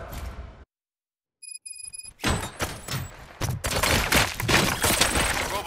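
A burst of loud gunfire in the video game RoboCop: Rogue City erupts after a brief silence and a few electronic beeps, shots rattling densely and continuously amid crashing impacts.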